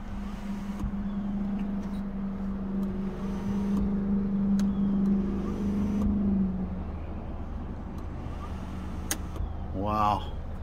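The power sunroof of an Audi Q5 quattro sliding shut, a steady low electric motor hum running for several seconds inside the cabin, with a muffled mechanical thud near the end.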